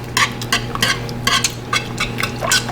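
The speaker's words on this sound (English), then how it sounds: "you want to keep stirring this up and let it come back to a boil for 2 minutes" Dandelion jelly thickened with sugar and pectin is stirred in a pot as it comes back to a boil, giving a rhythmic series of close scraping swishes over a steady low hum.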